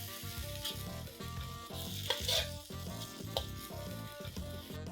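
Honey chilli potatoes are stirred in a hot pan with honey just added after the flame is cut, giving a steady close sizzle with repeated rhythmic scraping strokes of the spoon throughout.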